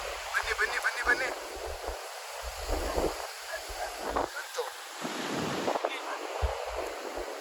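Sea waves wash onto a beach in Goa with a soft surging rush and wind buffeting the microphone, while people chat nearby.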